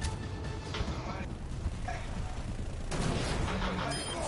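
Gunfire from a deployed turret in the video game Overwatch rattles on continuously, loud and dense, layered with other game noise and voice chatter throughout.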